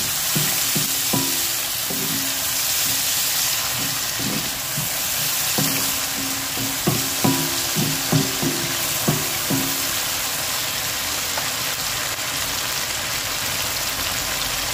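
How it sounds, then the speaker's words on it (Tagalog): Vegetables in oyster sauce sizzle steadily in a pan, with a spatula stirring and scraping in a run of light knocks partway through, close and fairly loud, no talking. "Haluin lang natin."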